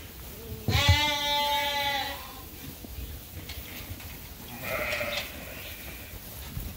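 Ewes bleat inside a sheep barn, one loud, close, wavering call followed a few seconds later by a softer second bleat over a low murmur of barn background.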